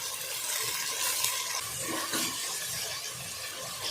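Tomatoes, mint and coriander being stirred into a biryani pot of golden fried onions for country chicken biryani, giving a steady sizzle with scraping stirs throughout, close and continuous with no talk.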